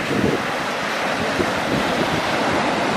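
Sea waves breaking on the shore at Gdynia Orłowo, a continuous loud wash of surf mixed with gusty wind rumbling on the microphone, with no voices.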